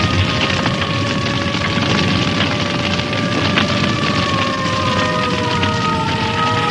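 Cartoon fire engines arrive with sirens wailing, several steady rising and falling tones layered over dense rumbling noise, continuous and moderately loud throughout.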